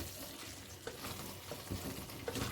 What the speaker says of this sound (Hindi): 2 से 3 मिनट हल्की लो फ्लेम पे, दम वाली फ्लेम पे रख के इसको पका लेते हैं